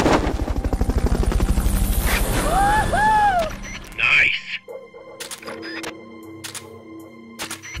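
Loud rhythmic Fulton recovery helicopter rotor thumping in Metal Gear Solid: Peace Walker, with a synthetic game-like whine, then it cuts off into mechanical clicks and clatter; a voice speaks over the start.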